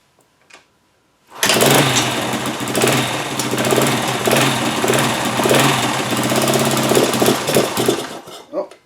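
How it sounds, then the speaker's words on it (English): A restored Honda TL 125 motorcycle, stone cold with the choke pulled, fires after one kick and settles into a loud, rapid, rattling single-cylinder idle close by, alone, after a moment of quiet. "let's see this thing start in one kick"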